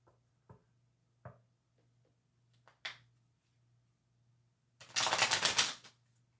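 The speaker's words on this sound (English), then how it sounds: "So I'm shuffling maniacally." Tarot cards shuffled rapidly and vigorously in one dense, close burst of riffling after a few scattered soft card taps and handling sounds, over a low steady hum.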